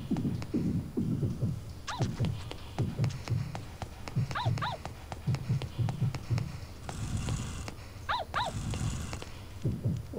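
A dog barks repeatedly in Yomawari: Midnight Shadows, sharp yelps in short clusters over rhythmic pattering footsteps, moderately loud against a quiet, eerie background.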